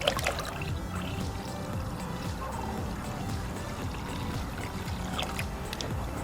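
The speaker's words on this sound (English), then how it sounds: "getting the water now and diluting it 50-50" Water poured into a container to dilute blue coolant half and half for a BMW E46, a steady trickling and gurgling stream running without pause, close and moderately loud, with no voices.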